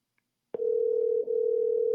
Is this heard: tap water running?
no